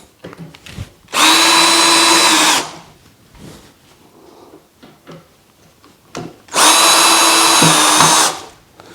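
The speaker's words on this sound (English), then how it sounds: "And then finish them with the drill." Two loud bursts of a power drill driving screws into an Ikea Metod drawer cabinet, whirring about a second and a half each, separated by quiet handling clatter and small knocks.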